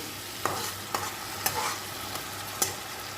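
A spoon stirs sugar into a pan of frying pointed gourd and prawn curry with tomato puree, giving several sharp scraping knocks against the pan over a soft, steady sizzle.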